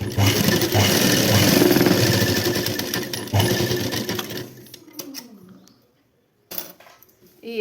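A sewing machine stitching quilt fabric runs loud and steady at close range, stopping partway through; quieter handling clatter follows after a brief silence.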